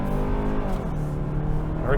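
A 2022 Hyundai Tucson XRT crossover accelerates hard with the pedal floored, its engine droning at steady, rising revs from inside the cabin as someone talks over it.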